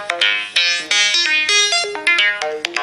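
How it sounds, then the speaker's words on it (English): A downloaded iPhone text tone plays alone: a bright synthesized melody of quick, ringing notes rising and falling in a lively pattern, loud and close for about three seconds. "you'll find the new tones you've just"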